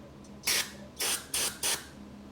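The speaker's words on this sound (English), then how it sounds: "let's spray a little starting fluid in here." Four short hissing bursts of starting fluid from an aerosol can into the carburetor of a Honda CM91 motorcycle, close up, each lasting a fraction of a second, with brief pauses between them.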